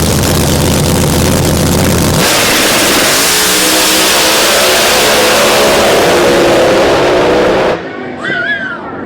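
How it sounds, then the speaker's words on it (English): Pro Mod drag racing cars at Bradenton Motorsports Park roar loudly at full throttle, a sustained thunderous engine blast that swells midway and then drops off abruptly near the end, leaving faint trailing noise. "what a night of drag racing right here at Bradenton Motorsports Park"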